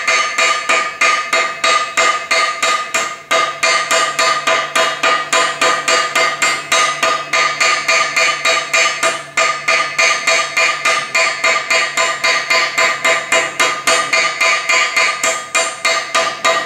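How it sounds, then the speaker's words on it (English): A hammer's round peen end strikes the end of a metal screw on a rake in a steady, rapid rhythm, dozens of evenly spaced ringing blows, loud and close, with no voices. "use the round end of this hammer"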